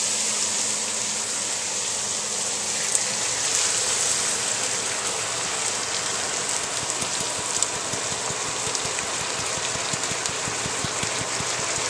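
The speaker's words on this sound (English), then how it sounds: "Cook these vegetables down with the sauce." Vegetables cooking down in spaghetti sauce for lasagna, giving a steady, dense bubbling sizzle with scattered pops throughout, close and continuous.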